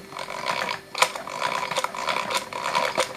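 Egg whites for an oven-free cake beaten in a bowl, a continuous near whirring and scraping with rhythmic surges and sharper strokes about every second, no talk.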